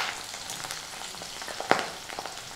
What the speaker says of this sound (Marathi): पण इथे आपण थोड्याशा तळून घेतोय